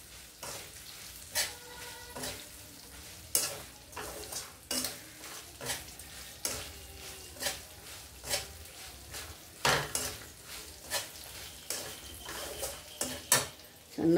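Karonda (vakkaya) and green chilli pickle ingredients stirred in a pan over a low flame, with repeated metallic scrapes and clinks of a spoon against the pot above a faint, soft sizzle, moderately quiet and close.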